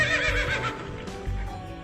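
A horse neighs as a sound effect in a film about riders fighting with lances, a loud whinny over busy background noise.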